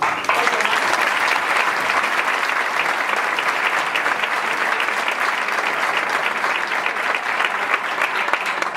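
An audience in an auditorium giving loud, sustained applause for author Dolores Redondo, dense clapping holding steady from start to finish.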